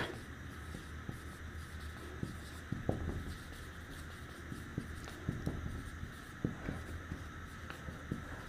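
Marker or chalk writing a line on a classroom board, soft scratchy strokes in short bursts over a steady room hum, close and fairly quiet, no voices.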